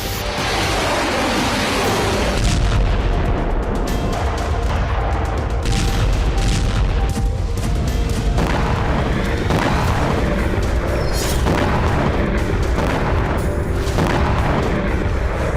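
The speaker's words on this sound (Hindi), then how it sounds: "MLRS और टैंक से गोलाबारी की गई।" Heavy artillery shelling from MLRS rocket launchers and tanks in Ukraine, a continuous loud rumble of booms and blasts layered with dense crackling bursts, no voices.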